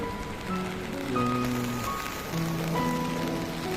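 Steady rain falls during a super typhoon in Metro Manila, a continuous, fairly loud hiss of drops on surfaces with no voices, calm rather than wind-driven.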